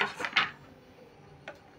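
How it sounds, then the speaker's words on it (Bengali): Lid lifted off a bowl of jalebi batter, a couple of quick clattering knocks followed by a fainter single tap, close and quiet. "এবার আমি ব্যাটারের ঢাকাটা খুলে নিচ্ছি।"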